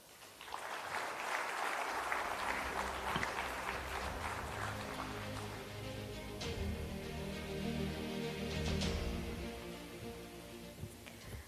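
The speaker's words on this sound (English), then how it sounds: "Let's have another round of applause, ladies and gentlemen" A crowd at a capital market investment forum applauds in a dense, sustained wash of clapping that eases off as tonal music rises underneath in the second half.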